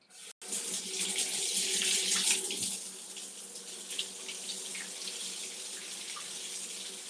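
Tap water gushes into a wooden cedar onsen bath with a steady, close, splashing rush that swells early and then settles into an even flow, without voices.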